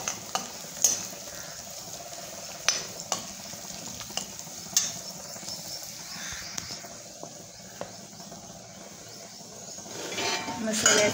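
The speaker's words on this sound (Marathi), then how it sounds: "तर्रीचा मसाला, सर्व मसाले टाकून घेऊ।" Spices such as red chilli powder, turmeric and tarri masala stirred in a hot pan for pav bhaji, with a steady sizzle under repeated scraping and clinking of a spoon against the pan.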